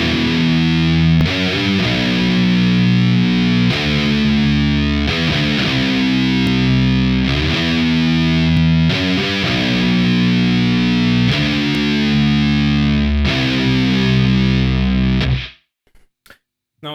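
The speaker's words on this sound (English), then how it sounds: "the first chorus, which is the same riff that the second guitar played, but it's with distortion" Heavily distorted electric guitar plays the chorus riff, loud chugging chords repeating in a steady rhythm for about fifteen seconds before cutting off abruptly, followed by a few faint clicks.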